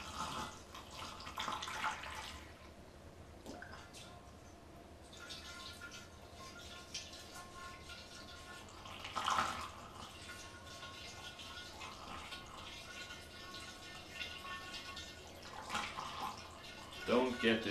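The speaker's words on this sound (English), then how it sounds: "We get a funnel like this, and we just pour in the water. Hot water with oxalic acid." Hot water mixed with oxalic acid pours through a funnel into a scuba tank, a long, quiet, trickling and gurgling flow with occasional splashes and drips nearby.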